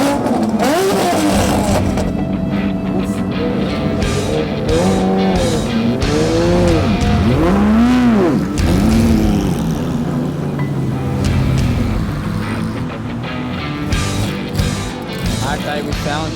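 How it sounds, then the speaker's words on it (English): Porsche GT4 race cars lap the track at Adelaide Motorsport, engines revving loudly with rising and falling pitch sweeps as they pass and shift gears. Tires squeal, and a person talks over the din. "We got the Porsches up on track next. GT4s."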